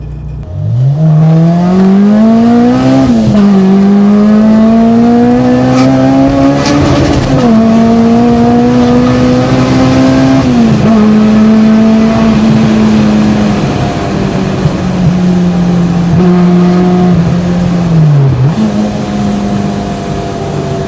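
A Rotrex-supercharged, roughly 400 bhp EP3 Honda Civic Type R revs loudly and shifts through gears, pitch climbing and dropping, with crackles and pops from the exhaust throughout.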